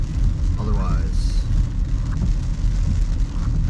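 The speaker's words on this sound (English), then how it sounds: "And I'll take this rain over the rain I had yesterday." Steady rain drums on a car driving along a road-trip highway, a dense continuous wash over low road and engine rumble, with no pauses.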